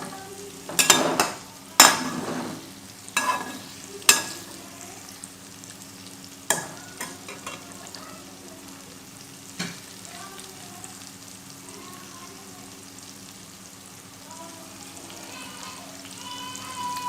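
Ingredients for Chinese fried rice stir-fried in a pan, with a few loud scraping stirs early on over a steady sizzle that settles into quieter continuous frying.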